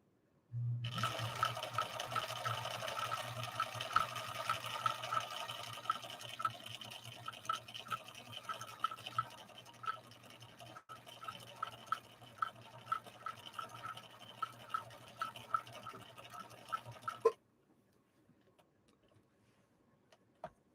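A Viking 6020 sewing machine runs a tri-motion stitch, the fabric fed rapidly back and forth; a steady motor hum with quick rhythmic ticking carries on for about seventeen seconds, then cuts off into near silence.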